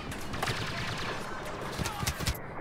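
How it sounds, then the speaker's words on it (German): Gunfire barrage in the Star Wars Battlefront video game: a dense, continuous crackle of rapid shots with sharper, louder bursts near the end. "Ein Sperrfeuer."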